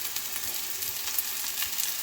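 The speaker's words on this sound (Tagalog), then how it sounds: "add the onion and then garlic. And then just saute." Onion and garlic sauté in a pan for pork curry, giving a continuous soft hiss with a few faint crackles and no voices.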